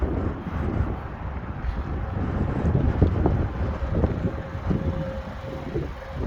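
Steady wind blowing outdoors beside a parked white 2021 VW Jetta 1.4T S, a loud continuous rumble buffeting the microphone with faint background traffic hum.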